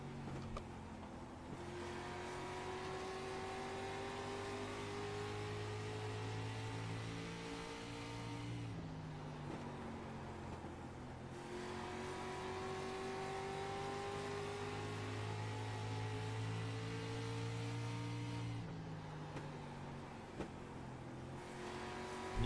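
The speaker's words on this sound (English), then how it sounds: "You can hear long throttle time down these long straightaways" Street stock race car on the Irwindale Speedway oval in a sim racing game, engine held at full throttle down long straights, pitch climbing steadily, dropping briefly around each turn before climbing again, loud and continuous with no talk.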